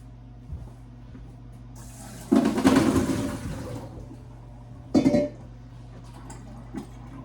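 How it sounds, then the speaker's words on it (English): Diced potatoes drained through a strainer at a kitchen sink: a loud rush of pouring water and splashing for about a second and a half, then a shorter second splash a moment later, over a steady low hum. "I'm going to take these to the sink and drain them in the strainer."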